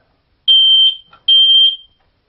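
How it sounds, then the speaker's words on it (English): Two loud, high-pitched smoke alarm beeps from a held test button, each lasting about half a second with a short gap between them, sounding alone and close. "if you want to test a smoke detector to see if it's working"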